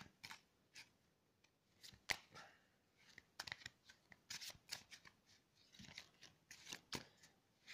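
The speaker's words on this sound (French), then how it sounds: "je mélange mes cartes" A deck of playing cards is shuffled up close, with quick riffling bursts and sharp snaps repeating irregularly and mostly alone, with no talk.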